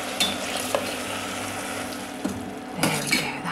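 Vegan breakfast of cabbage, apples, basil and raisins cooking in a pan on lowered heat, giving a steady soft sizzle with occasional stirring scrapes and light utensil clinks.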